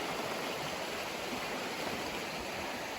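Pozo Creek flows on a homestead property, giving a continuous rushing, bubbling wash of water that stays even and close throughout with no voices.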